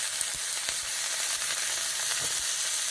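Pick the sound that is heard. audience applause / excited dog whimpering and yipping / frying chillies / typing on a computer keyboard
frying chillies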